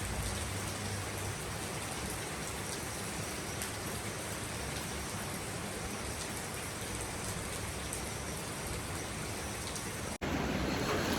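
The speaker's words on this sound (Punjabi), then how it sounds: "ਮੀਂਹ ਬਹੁਤ ਪਿਆ ਸਾਰੀ ਰਾਤ ਪਈ ਗਿਆ ਮੀਂਹ ਤਾਂ ਸਵੇਰੇ ਵੀ ਹਜੇ" Heavy, steady rain pours down continuously in the mountains at Tharali, a dense close wash of drops on surfaces with no voices.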